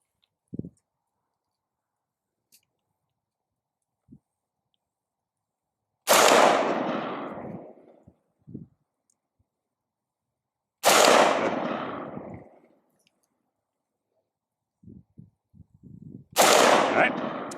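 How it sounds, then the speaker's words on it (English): Three loud handgun shots fired at a shooting range target, each a sharp crack with a trailing echo, spaced a few seconds apart, with faint knocks and handling sounds in between. "Those are all good shots."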